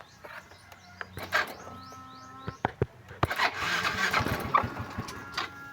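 A Yamaha Mio i 125 scooter with a check engine light and battery charging trouble is cranked several times with sharp starter bursts, catches briefly into a rough idle, then dies, heard close and alone.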